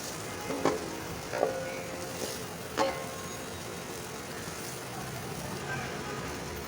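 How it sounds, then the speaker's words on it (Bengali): Carrots, onion and other vegetables for fried rice fry in a pan with a steady, close sizzle, punctuated by a few sharp clinks of a spatula stirring against the metal. "হালকা করে ভেজে নেব।"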